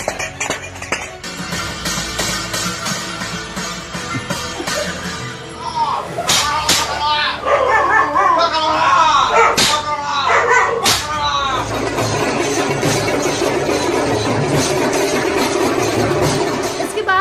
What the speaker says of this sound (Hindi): आपके कानों में थाली पीटने की आवाज़ गई हो